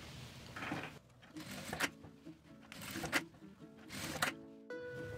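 A sewing machine backstitches over the ends of a fabric seam, running in short mechanical bursts separated by brief pauses, close and fairly quiet, with no voices.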